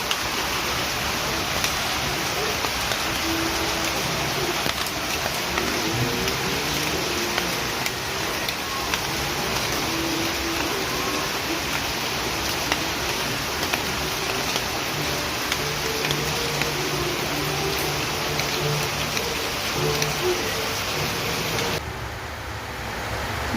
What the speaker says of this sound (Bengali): দেখুন প্রচুর পরিমাণে বৃষ্টি হইতেছে।